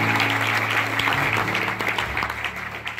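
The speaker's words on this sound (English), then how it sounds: "please give a big round of applause to Mr." An audience at a bluegrass performance claps steadily in a sustained round of applause, with low instrument tones lingering underneath.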